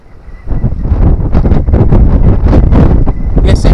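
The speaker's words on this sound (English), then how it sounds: "Yes, it's still windy." Strong wind gusting across an open seashore fishing spot, a loud, continuous buffeting roar that rises after the first half second and batters the microphone throughout.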